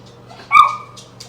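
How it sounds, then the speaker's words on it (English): A single short dog bark, fairly close, with faint yips around it in an otherwise quiet room. "I feel like you're gonna hear them barking in the background some"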